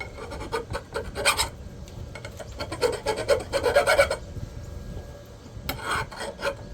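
A dull hand file rasps across the hard metal of a 12-gauge double-barrel shotgun barrel in bursts of quick back-and-forth strokes, close and fairly loud, with short pauses between passes.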